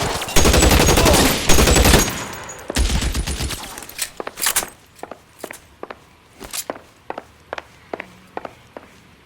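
Video game gunfire in L.A. Noire erupts in dense, loud rapid bursts over the first few seconds, then gives way to sparser single shots and sharp impacts spaced out irregularly.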